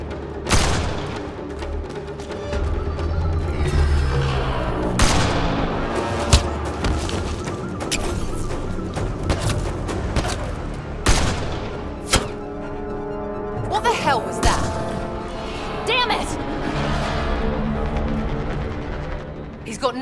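Video game gunfire and booms in Mass Effect: Andromeda, dense and continuous with sharp shots and thuds over music and character voices shouting in a firefight.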